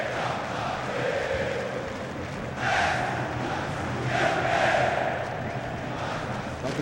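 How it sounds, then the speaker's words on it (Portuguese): Corinthians supporters in a packed stadium at a 2011 Brazilian league match against Vasco, producing a steady distant crowd roar that swells into two louder cheering surges. "A torcida do Corinthians adorou."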